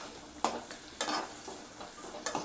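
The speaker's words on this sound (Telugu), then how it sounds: "1 నిమిషం ఇలా వేయించుకొని ఈ పచ్చి వాసన పోయేదాకా వేయించుకుంటే సరిపోతుంది" Thinly sliced onions frying in a pan for egg curry, with a steady sizzle broken by several quick scraping stirs of a spoon against the pan.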